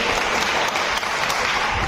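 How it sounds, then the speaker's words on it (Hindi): Loud, vigorous applause from a crowd of children at a young scientists' project event, a dense continuous roar of clapping heard close and alone without speech. "अपने लिए जोरदार तालियां दीजिए"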